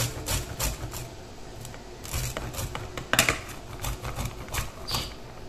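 Onion and garlic rubbed against a grater in a bowl, a run of uneven scraping strokes with quick clacks and scrapes, close and fairly loud, with no voices.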